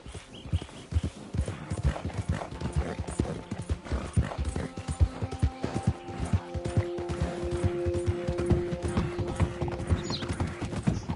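A ridden horse's hooves clip-clop in a brisk, steady rhythm in Red Dead Redemption 2, close and prominent, with faint tonal ambience rising behind them.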